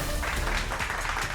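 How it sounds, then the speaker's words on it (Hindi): An audience claps together in a brief, dense burst of applause that stays steady for its full length. "उनके लिए ताली बजाइए प्लीज"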